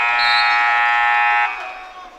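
A single loud, steady electronic horn sounds at the end of a boys high school basketball game between Jeffersonville and Silver Creek in Southern Indiana, holding for about a second and a half before cutting off and fading into the gym.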